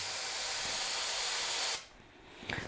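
A cheap airbrush spray gun sprays paint in a loud, steady close hiss of air that cuts off abruptly partway, followed by quieter room sound and a short faint hiss near the end.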